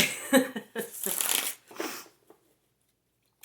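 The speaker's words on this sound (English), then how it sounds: "go ahead and give the cards a good shuffle or two" Tarot cards are shuffled in several quick riffling bursts, crisp and close, before falling into silence.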